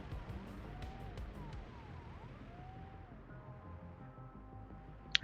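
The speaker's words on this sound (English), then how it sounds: "Oh no, it was a police car." A police car siren in a Siberia-set video game wails softly behind low traffic rumble. Its rising and falling tones sweep past faintly, with a short sharp click at the very end.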